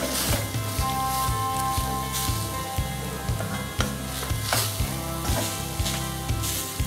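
Tender jackfruit and crushed coconut being stir-fried in a pan, with a steady close sizzle broken by repeated rhythmic scraping and stirring strokes throughout.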